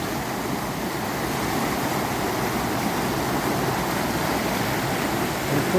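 Augerolles waterfall roaring steadily as a dense, constant broadband rush of falling water, close and loud, with no voices.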